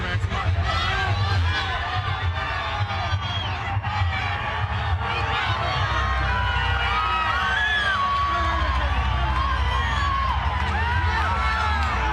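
A dense arena crowd roars and cheers steadily as a boxer enters the Mandalay Bay Event Center, loud and continuous with shouts and whoops rising through the din.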